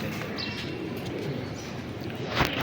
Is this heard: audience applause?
no